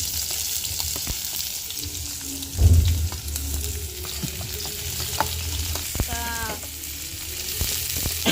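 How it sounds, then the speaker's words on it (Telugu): Onions frying in a pan for makhana curry, a steady close sizzle with scattered scraping stirs and one loud louder clatter partway through, no speech. "ఆనియన్స్ అయితే వేసుకొని బాగా అయితే ఫ్రై చేసేసుకున్నామండి"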